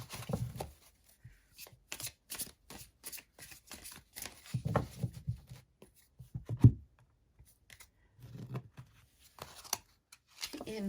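A deck of cards being shuffled by hand at close range, with repeated crisp riffling bursts and short pauses between them, some soft fumbling and tapping, and no voices over the shuffling.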